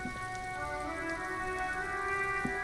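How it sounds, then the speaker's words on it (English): Steady rain falls in a video game, a constant soft hiss with a sustained musical drone beneath it and no voices. "It's raining again."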